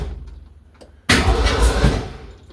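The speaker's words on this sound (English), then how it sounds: "yeah, we got a starter action" Starter cranking the 289 V8 in a 1965 Ford Mustang, a loud close burst of whirring starter and engine churn that kicks in abruptly after a quiet moment and runs steadily for over a second before easing off.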